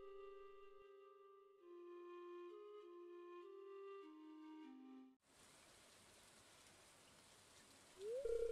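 Steady rain from Stardew Valley hisses softly across the whole range after a stretch of game music, then briefly joins a louder synthesized tone near the end.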